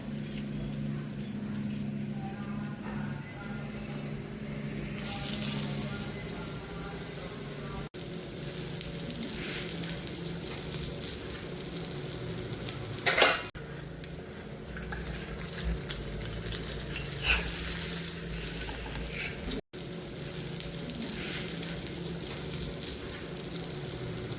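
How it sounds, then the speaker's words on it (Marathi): Konkani-style surmai (kingfish) slices frying in hot oil, a steady close sizzle and crackle running throughout with occasional brief clatters and stirring noises, no talk. "असं तेल तापले त्याच्यामध्ये सोडणार आहे"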